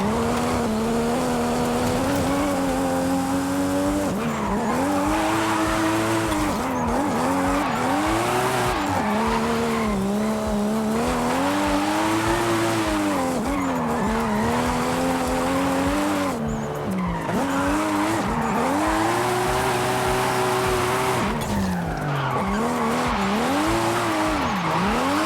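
Rear-wheel-drive car drifting in the Forza Horizon 5 video game, tires squealing and skidding almost continuously over a revving engine that rises and falls in waves, loud and close, no talking.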